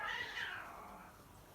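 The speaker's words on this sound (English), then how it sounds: "it sounds like my neighbour's cats are going to get done for GBH" Neighbourhood cats caterwauling as they fight, a single drawn-out yowl that rises and then slides downward, loud at first and fading over about a second and a half, with no voices.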